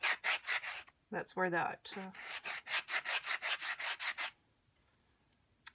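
Rapid rhythmic scraping of an abrasive being rubbed back and forth over a metal ornament on an altered book cover, close and crisp in quick bursts, broken by a short spoken phrase partway through.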